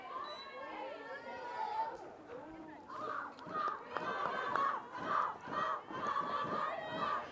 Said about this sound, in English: So you can hear the Redlands team cheering from the dugout